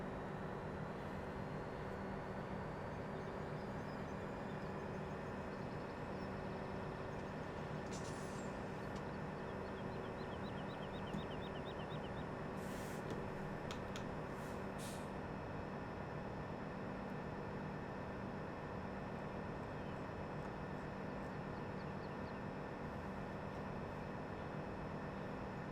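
A train in Farming Simulator 17 rumbles along steadily and fairly quietly, with a continuous low mechanical drone and a few brief higher clanks or squeals partway through.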